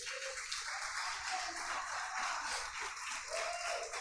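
A church congregation at a sermon applauds in praise, a soft continuous patter of many hands clapping for several seconds, faint and somewhat distant, with no one speaking over it.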